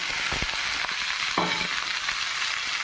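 Washed ridge gourd (jhinga) fries with browned onions in a hot pan, a loud, steady close-up sizzle with a few brief stirring knocks near the start.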